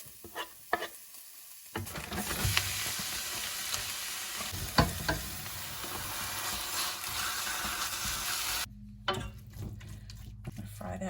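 Garlic and minced meat sizzle and crackle in a hot frying pan, with a spatula stirring and scraping through steady frying noise; a brief dip near the end before the sizzle resumes.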